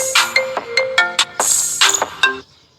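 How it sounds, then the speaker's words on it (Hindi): An iPhone remix ringtone plays a bright, bouncy electronic melody of short, clear notes for about two and a half seconds, then stops, leaving silence. "ये आईफोन का रिमिक्स है, जो कि अच्छा लगता है मेरे को।"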